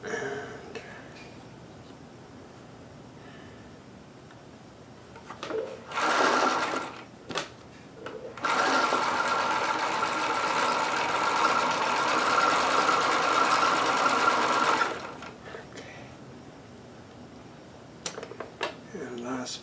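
Sewing machine stitching new elastic onto underwear, running in two bursts, a short one then a steady, loud run of several seconds, with quiet pauses between and some low talk around it.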